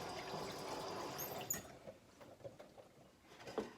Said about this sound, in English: And just rinse it and close that back up.